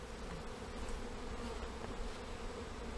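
Honeybees buzzing in a steady, dense drone during transfer from a top bar hive to a Langstroth box, close and continuous, with many insects humming together and no voices.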